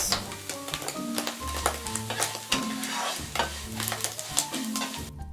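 Rice noodles stirred and frying in a pan with a little salt, repeated scraping strokes of the utensil against the pan over a steady close sizzle, no talking.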